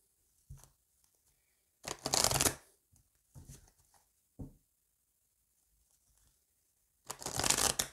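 A deck of oracle mirror cards is shuffled and cut in several short, crisp riffling bursts separated by quiet pauses, close and fairly soft, with no talking.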